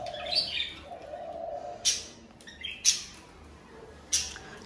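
Several sharp, shrill cockatiel squawks, breeding calls, ring out at irregular intervals close by, with softer chirps between them over a quiet background.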